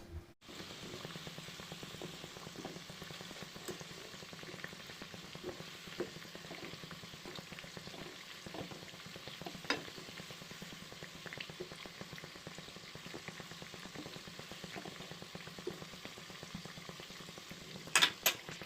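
Onion fritters (peyaji) frying in oil, a steady close bubbling and crackle running the whole way at low level, with a couple of clinks near the end and no talking.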